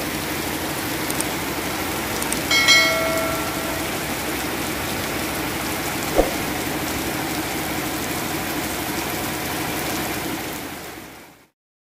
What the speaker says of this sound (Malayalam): വളരെ ശക്തമായ നല്ല മഴ ഇന്ന് ഇവിടെ. നല്ല മഴ വെച്ചാൽ പെരുമഴ.